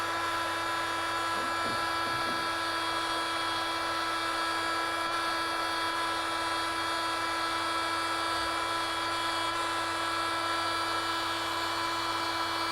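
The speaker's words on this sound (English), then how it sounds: "I'm always brushing into the vacuum cleaner, never away from it." A vacuum cleaner runs steadily throughout while a heritage object's surface is gently brushed toward the nozzle during conservation cleaning. The motor whine is continuous and moderately loud, with no talk.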